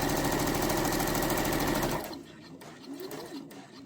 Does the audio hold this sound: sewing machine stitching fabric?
yes